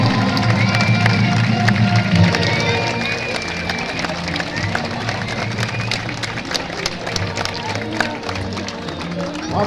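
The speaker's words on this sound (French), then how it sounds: "Un petit tour de piste, Sarah, pour avoir les applaudissements." Crowd at a horse show in an arena, with cheering and a mix of scattered clapping and voices, loud at first then settling into a steady hubbub punctuated by sharp claps, with people talking throughout.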